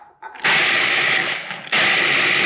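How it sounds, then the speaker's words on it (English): A food processor grinds graham crackers with a loud whirring motor. It starts in a short burst, pauses briefly, then starts again, with a rattling texture from the crumbs. "Break them up into the bowl of your food processor and grind them up."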